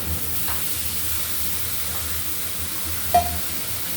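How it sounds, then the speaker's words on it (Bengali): Mustard and green chilli paste stirred into snake gourd frying in a pan, a soft continuous sizzle with faint scraping strokes and one brief clink near the end. "দিয়ে দিলাম মশলা।"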